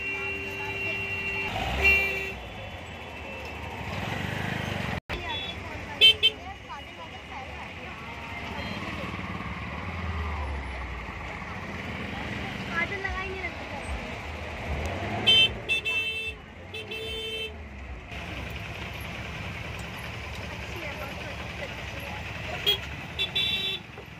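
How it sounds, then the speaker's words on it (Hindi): Heavy traffic crawls near the Red Fort in Delhi during an Eid fair, with repeated car horn toots, passing engines and occasional reversing beeps amid a busy street din, while people talk over it. "ट्रैफिक हो रहा है बहुत ज्यादा यहाँ पर"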